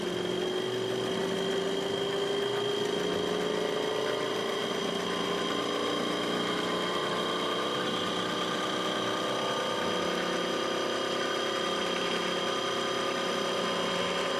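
Sun 404 distributor test machine running up in speed, a steady loud motor hum with a high whine whose pitch climbs gradually and continuously, no talking.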